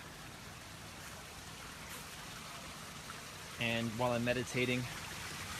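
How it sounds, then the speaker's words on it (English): Water runs steadily over rocks in a homemade backyard waterfall in an Arizona garden, a constant soft rushing hiss throughout, with someone speaking close by toward the end. "I built this waterfall so that it's a nice soothing Zen aesthetic that makes my meditation more powerful."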